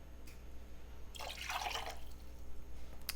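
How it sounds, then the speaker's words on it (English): Equal amounts of water and vinegar poured into a saucepan for quick pickled carrots, a brief bright splashing pour of about a second amid quiet kitchen background hum. "In a saucepan, we are going to add equal amounts of water and vinegar."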